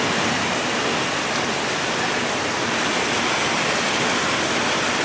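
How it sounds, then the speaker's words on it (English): Heavy rain pours down in Abidjan, Côte d'Ivoire, a dense, continuous roaring hiss with no let-up and no voices over it. "I love this rain here in Abidjan."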